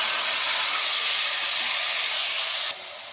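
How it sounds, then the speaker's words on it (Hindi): Half a kilo of minced meat frying in a pan gives a loud, steady, broadband sizzle with no voices. It drops slightly in level near the end. "ये आधा किलो कीमा है, बड़ा। इसको भूनना है अच्छी तरह।"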